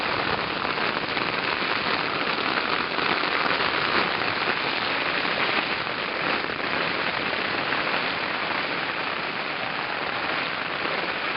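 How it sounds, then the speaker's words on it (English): Heavy rain pouring down steadily in Sequoia National Park's Nine Lake Basin, a dense, constant hiss of drops hitting surfaces with no pauses. "Every day we've had a thunder shower and rain."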